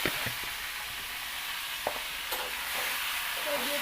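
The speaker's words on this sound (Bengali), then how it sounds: "আমি এখন মাছ ভেজে নেব।" Fish fries in a pan of hot oil with a soft, steady sizzle and a few light taps and scrapes, faint and with no talking.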